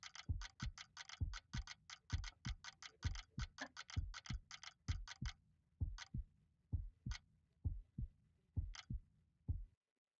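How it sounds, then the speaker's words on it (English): In the video game 2054, a ticking clock and a thudding heartbeat pulse together in a steady rhythm. The ticks thin out, the beats slow, and both stop abruptly into silence. "The clock and the heartbeat stopped at 2054."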